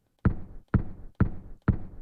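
Pitch-shifted kick drum sample made from Silly Putty dropped near the floor: four evenly spaced, punchy low thumps in a steady beat, each with a short decaying tail.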